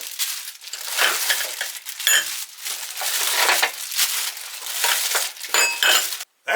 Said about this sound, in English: That's a lot of unwrapping.